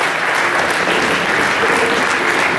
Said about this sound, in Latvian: tajā dīvainībā aplausu Lindai